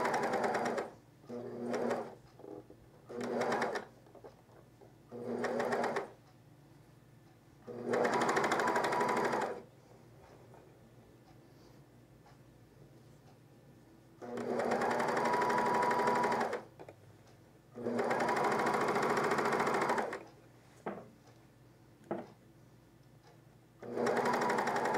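A serger or coverstitch machine runs in repeated bursts while stitching a camisole side seam, several short runs and two long sustained passes with quiet pauses between them.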